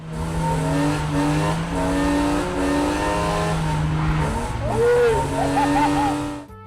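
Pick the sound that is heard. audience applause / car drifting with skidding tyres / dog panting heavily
car drifting with skidding tyres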